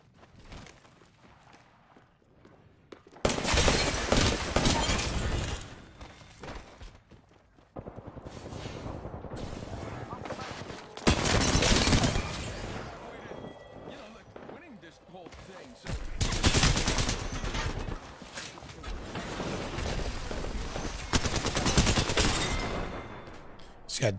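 Bursts of automatic gunfire and rapid volleys from Apex Legends come in long loud stretches separated by quieter gaps, a voice talking now and then between the firing.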